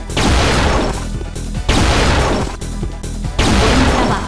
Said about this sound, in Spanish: Pulsa el botón de disparar para lanzar un rayo eléctrico mortífero.